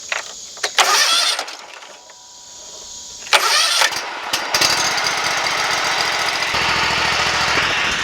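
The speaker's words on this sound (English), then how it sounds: "tighten it up, and then start the engine, let it run for just a minute or so, and then shut it back off." A Hustler Raptor X lawn mower engine cranks with rough bursts, sputters and falters, then catches and settles into a loud, steady idle, heard close up after an oil change.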